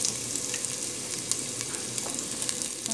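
Onions frying in a pan with a little garlic for homemade chicken maqluba, a steady close sizzle with fine crackles and a few stirring ticks, alone and even throughout.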